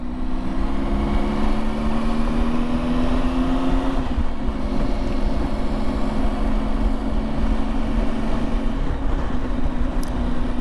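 A Triumph 955i three-cylinder motorcycle engine chugging at about 2,000 rpm, a steady loud low drone with wind rush that continues throughout.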